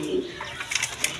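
A pair of Spanish Gorgori Border pigeons, male and female, give a short, soft cooing call close by, a brief murmuring phrase with no other sounds.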